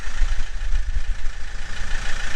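A motorhome engine idles with a newly fitted exhaust, giving a loud, steady, low rumble that pulses slightly and never lets up, with no voices over it.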